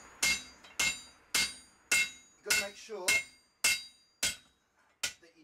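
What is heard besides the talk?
hammering a hot cut in blacksmith forging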